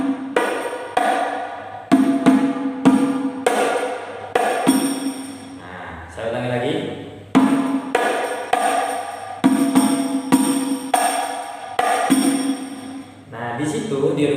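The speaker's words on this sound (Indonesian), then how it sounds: "Duk, tabuhannya duk tak tak duk duk duk" Banjari hadrah frame drums beat out the wedokan pattern, deep duk strokes mixed with sharp tak slaps in a repeating rhythm, played close in two runs separated by brief pauses.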